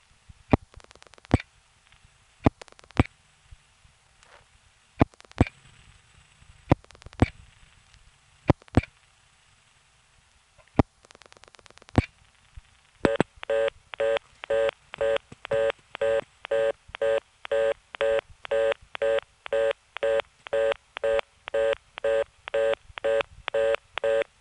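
Telephone dialing on a step-by-step exchange in Florida, New York: sparse sharp clicks at first, then a long, steady train of regular pulsed bursts as the digits are pulsed out, close and clear with no talk.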